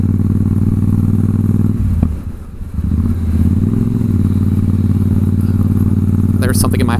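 A motorcycle rides through traffic with a steady, loud, low engine drone that dips briefly before settling back to a constant rumble, with a short clatter near the end.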